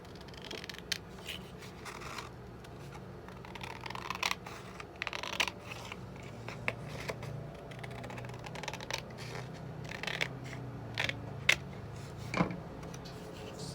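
Scissors cut a strip off a paper craft piece, heard as a series of faint, irregular snips and small clicks close by in an otherwise quiet room.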